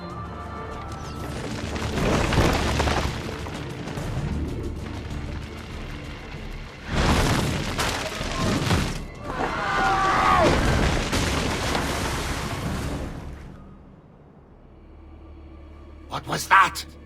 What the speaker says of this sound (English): Probably just kids with firecrackers.